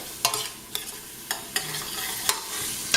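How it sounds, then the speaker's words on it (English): Carrots, onions and celery sautéing in butter, with a close, crackling sizzle broken by several sharp scrapes and clacks of a stirring utensil. "we're going to just let this saute for a little bit."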